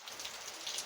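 Heavy rain falls steadily outdoors, a dense even hiss of drops with no voices, throughout the brief moment.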